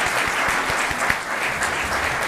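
Applause for the facilitators at a White House dialogue on men's health, a full room clapping steadily and densely, with a few sharper claps standing out near the front.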